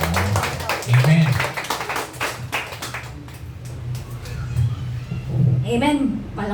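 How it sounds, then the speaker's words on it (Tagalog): A church congregation claps together with dense, continuous applause, while voices can be heard over the clapping. "Palakpakan po natin ang Panginoon."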